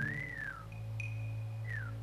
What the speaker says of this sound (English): Whistle one more time if you're tough.